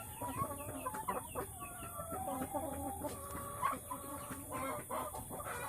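Several chickens in a small backyard coop cluck and chatter together nearby, a busy, overlapping flock with occasional louder squawks.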